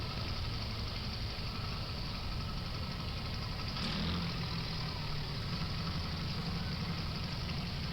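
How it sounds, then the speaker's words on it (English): A 1947 Oliver tractor engine idles and chugs at a Fourth of July parade, a steady, fairly faint low rumble with a faint outdoor background and no voices. "We also have Lloyd Mork with his 47 Oliver tractor."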